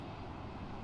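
Airbus A321 engines idling in a Flight Sim Labs simulator, a brief, faint, steady jet rumble and whine with no talk.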